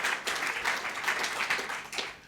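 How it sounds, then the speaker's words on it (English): An audience at a fellows presentation event applauds, a fairly close, steady wash of many hands clapping with slight pulsing swells, no voices rising above it. "So, round of applause for these guys."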